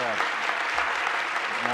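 Audience applause fills a school board meeting in Oradell, a dense, steady crackle of many hands clapping at once that holds evenly throughout without pause.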